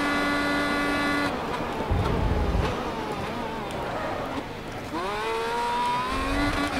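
Race car engines from the Grid Autosport racing game roar at full throttle, steady harmonic whine with a pitch sweep rising as a car accelerates, loud and continuous throughout.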